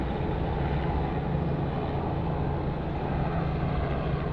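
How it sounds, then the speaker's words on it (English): Thai Airways flight 476 rolls for takeoff on runway 34 left at Sydney Airport, a broad, continuous engine rumble heard from a distance, steady and unbroken. "Thai 476 now rolling runway"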